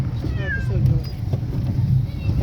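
Several cats meow repeatedly in short, rising cries while riding in a moving car, their calls sitting over a steady low rumble of road noise.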